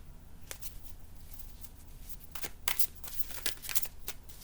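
Tarot cards shuffled by hand at close range, with soft papery riffles and several crisper flicks that grow busier toward the end, over a quiet background.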